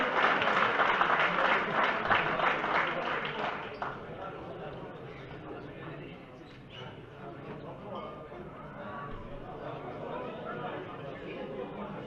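An audience claps for finalists at a trophy ceremony, loud steady applause for the first few seconds that fades into softer scattered clapping and crowd murmur, with talk underneath.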